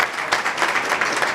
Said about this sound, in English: A round of applause for the president of the Chamber